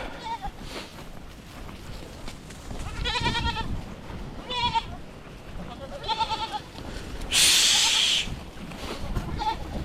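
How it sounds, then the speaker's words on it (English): A goat on a farm bleats several times in short wavering calls spaced a second or two apart, with one louder, harsher cry near the end, while a person speaks softly between the calls. "Goat."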